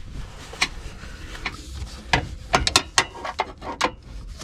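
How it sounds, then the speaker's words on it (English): A 17mm wrench works the belt tensioner on a Mazda CX5, giving a run of sharp metallic clicks and ratcheting snaps in irregular bursts, close and fairly quiet, with no talk. "I'm just using a 17mm wrench"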